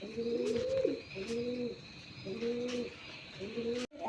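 Local domestic pigeons coo nearby in a rhythmic series of about four soft, rolling calls, with faint background noise and no speech.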